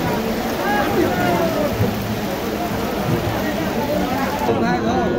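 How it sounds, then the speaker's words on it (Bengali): Heavy rain falls at an outdoor cattle market in Naogaon, a dense, loud, continuous wash of rain under voices talking near the microphone. "প্রচন্ড বৃষ্টির মধ্যে"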